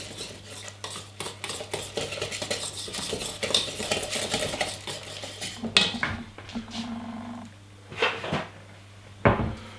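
Fish batter stirred in a bowl, a run of quick rhythmic scraping and clinking of utensil against the bowl, then scattered knocks and a cupboard-like thud as the stirring stops.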